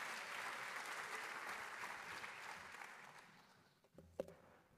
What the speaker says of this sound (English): Feel free to clap each time just so it's easier for me to switch slides.